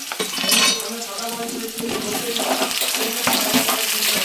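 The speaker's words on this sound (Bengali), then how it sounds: "এবার আলুগুলো লাল লাল করে ভেজে নিতে হবে," Potatoes fry in a pan alongside a cooking chicken dish, giving a close, continuous sizzle broken by scraping stirs and clinks of utensils against the pan.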